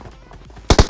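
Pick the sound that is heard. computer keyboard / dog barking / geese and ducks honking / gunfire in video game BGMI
gunfire in video game BGMI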